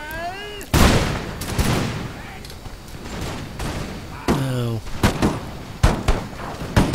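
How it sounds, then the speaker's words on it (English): Puckle guns fire in a battle in Empire Total War Darthmod, sharp thumping shots scattered unevenly, some loud and close, mixed with a brief tonal whistle-like sound and a rumbling background. "those puckle guns, which should be firing again"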